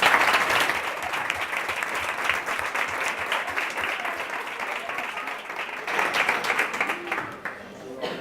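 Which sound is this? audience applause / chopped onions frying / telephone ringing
audience applause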